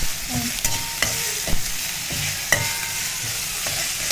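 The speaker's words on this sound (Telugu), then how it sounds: "బాగా ఫ్రై చేసుకోవాలి." Upma ingredients sizzle in a pan with curry leaves and coriander, a constant crackling hiss broken by regular sharp scrapes of a spoon against the pan.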